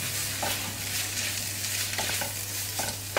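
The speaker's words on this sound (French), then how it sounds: "Je mélange le tout." Onions and boiled potatoes being stirred in a pan, a constant close sizzle of frying with scraping spoon strokes over a low steady hum, no talk.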